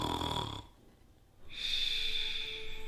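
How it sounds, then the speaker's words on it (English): Loud, close snoring: one breathy snore, a short pause, then a longer rasping snore that carries on to the end. "Are you snoring?"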